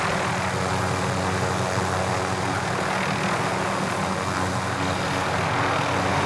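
A helicopter in Call of Duty: Modern Warfare roars steadily and loudly, its dense engine and rotor noise holding constant without letting up, no voices over it.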